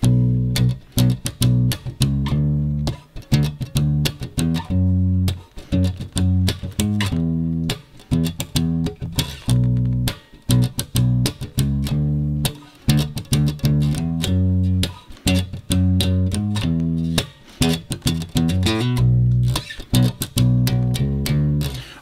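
Four-string bass guitar playing a B Dorian riff, a steady stream of clear plucked notes in repeating rhythmic phrases with short gaps, close and moderately loud with no talking.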